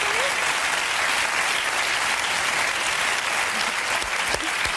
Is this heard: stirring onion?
no